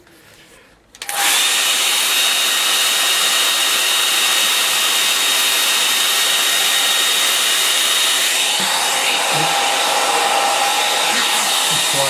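A hair dryer blows to dry a watercolour painting, switching on after a second of quiet and then running as a loud, steady, close whoosh with no pause to the end.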